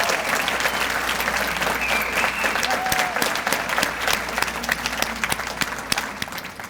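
A ceremony audience gives sustained, dense applause for a group of young alumni, a loud even wash of many hands clapping that carries on throughout with no break.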